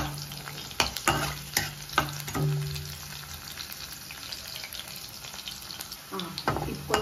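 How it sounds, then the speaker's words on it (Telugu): Seasoning seeds crackle and sizzle in hot oil in a pan as spinach fry is prepared, with sharp sputtering pops and scattered clinks over a continuous frying hiss. "ఇది కొంచెం బాగా ఎర్రగా వేగిన తర్వాత తాలింపు గింజలు వేసుకున్నాం."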